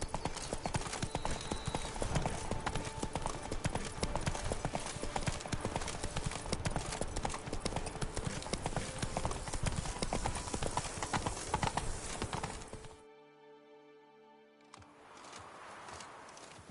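Roach, the witcher's horse in The Witcher video game, clip-clops along in a steady, close hoof rhythm for about thirteen seconds, then the hoofbeats stop and a quieter, different background takes over.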